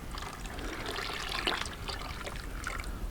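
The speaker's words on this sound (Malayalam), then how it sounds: "അതായത് 1ാം പാൽ ഒഴിച്ച് കൊടുക്കാം." First-extract coconut milk is poured into a pot of jackfruit payasam, making a soft, steady trickling and splashing that stays fairly faint for a few seconds.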